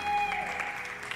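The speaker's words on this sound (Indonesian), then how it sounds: "Beri tepuk tangan." A church congregation clapping together, a steady wash of applause heard from a distance and fairly faint, continuing evenly throughout.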